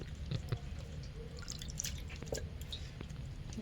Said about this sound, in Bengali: পেঁয়াজ পাতাগুলো আমি কেটে নেব ভালো করে জলে ধুয়ে নেব